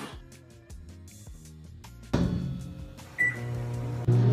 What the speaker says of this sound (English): I'm going to microwave this so the cheese melts on top of our pheromone soap.